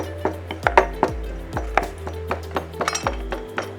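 Hard galangal pounded in a mortar at a Thai cooking demonstration: a steady run of heavy, close thuds, about two or three strikes per second, each with a short clinking ring.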